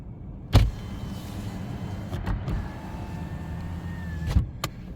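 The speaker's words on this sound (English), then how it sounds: "Can you show me how you would wind the side window down and up again?" Electric side window of a 2022 Suzuki Swift Sport running down and then back up, a steady motor whine inside the car with soft clunks as the glass starts and stops.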